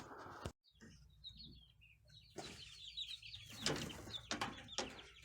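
Hens and young chicks in a backyard coop around a new five-gallon bucket waterer, giving scattered clucks and chirps, with a brief flutter of wings and short silent gap early on.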